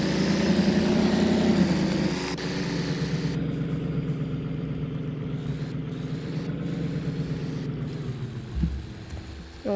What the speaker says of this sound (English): You want to turn off the engine?